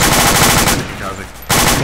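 Loud machine gun fire in the tactical shooter Arma: a sustained burst, a short pause, then the rapid firing resumes at full strength.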